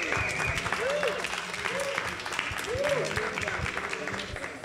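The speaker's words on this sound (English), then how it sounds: "give them a round of applause" Applause from an audience at a psychedelics talk for Ismail Ali and Natalie Ginsberg, a steady patter of clapping with a voice talking over it partway.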